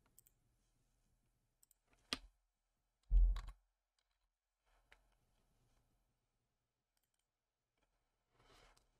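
A computer mouse clicks during office software work: a few isolated, sharp clicks spread across mostly quiet seconds, with one louder thump and faint rustling near the end.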